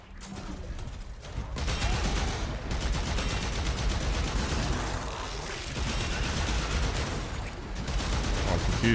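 Warframe gunfire, sustained rapid volleys of shots layered with mechanical clatter, growing louder after the first second and staying dense with slight dips.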